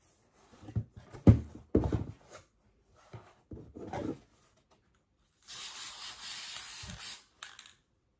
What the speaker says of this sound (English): And I'm going to give it a little spray.